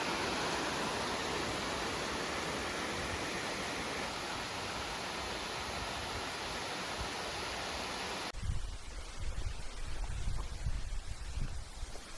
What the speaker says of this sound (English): Got some waterfalls over here.